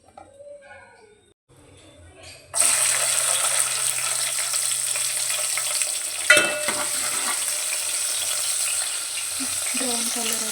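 Onions hitting hot oil with bay leaf and whole spices in a pan, a quiet lead-in giving way to a sudden loud sizzle that stays steady, with a brief clatter partway through.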